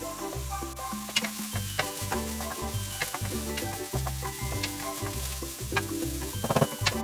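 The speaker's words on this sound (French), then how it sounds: "on vient les faire revenir quelques instants dans l'huile d'olive" Chopped onion and garlic cloves frying in olive oil in a pan, a steady close sizzle with scattered crackles and spatters running continuously throughout.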